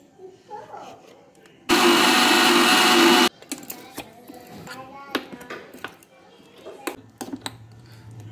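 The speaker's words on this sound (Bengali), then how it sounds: "জল দেবো আর একটু মিহি করে পিষবো।" A kitchen mixer grinder roars loudly and steadily for about a second and a half, grinding prawn heads with black salt, spices and a splash of water into a fine paste. It then stops abruptly, leaving light kitchen taps and clatter.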